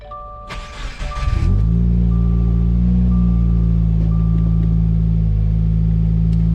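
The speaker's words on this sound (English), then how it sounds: "So now is the moment of truth. We gotta turn on the fucking car." Subaru WRX with a newly installed Cobb Big SF intake starting up: a short cranking whir, then the engine catches and settles into a loud, steady, close idle rumble.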